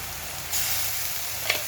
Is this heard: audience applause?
no